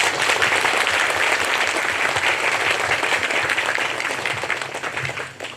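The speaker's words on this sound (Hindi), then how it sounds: "उनकी उपस्थिति के लिए हम बहुत ज़्यादा ताली बजाएंगे" Loud, sustained applause from a congregation at a silver jubilee Holy Mass in St Mary's Church, Satali Basti. Dense clapping holds steady throughout, then begins to thin and fade in the final second.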